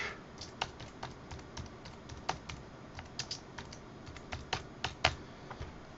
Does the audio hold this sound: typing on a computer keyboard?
yes